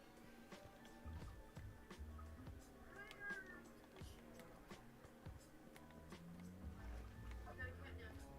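A cat in the game Minecraft gives a few faint meows under steady talking, with scattered clicks and soft game noises around them.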